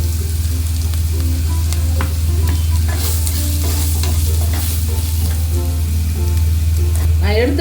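Spices with turmeric powder frying in a pan for tomato rice, a continuous sizzle with scattered stirring clicks over a steady low hum from a nearby appliance.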